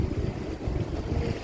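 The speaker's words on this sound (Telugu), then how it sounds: "బోట్స్ అన్నీ వరుసగా వెళ్తున్నాయి" Houseboats move in a line along the Alappuzha backwaters in Kerala, heard as a steady low engine rumble and water wash under heavy wind buffeting.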